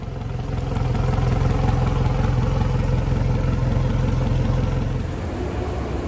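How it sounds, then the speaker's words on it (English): A Suzuki DF200AP 200 HP four-stroke outboard engine starts and runs steadily at idle, a continuous low mechanical drone with light clatter, loud and close throughout. "button this up and start the engine"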